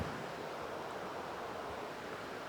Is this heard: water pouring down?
yes